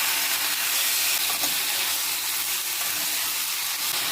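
Tomato, chopped ridge gourd and a mixed spice blend frying in a pan, giving a steady broadband sizzle with a brief louder burst near the middle, close and continuous with no talking.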